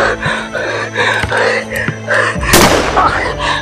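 A single loud, sharp gunshot cracks out near the end, breaking through anxious talking and heavy breathing that carries on before and after it.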